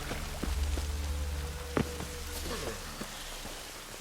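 Steady rainfall in the video game The Witcher 3: Wild Hunt, a constant close patter with a low rumble beneath, briefly touched by a faint voice.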